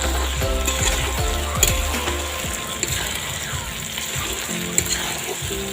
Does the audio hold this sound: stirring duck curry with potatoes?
yes